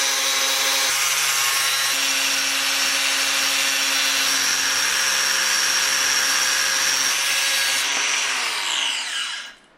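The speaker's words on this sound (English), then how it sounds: "I'm going to be cutting off the same amount of threads on my other 2 tie rods" Power tool cutting off threads on a 1978 Trans Am tie rod, a loud, steady grinding whine held for about eight seconds, then winding down and fading out at the end.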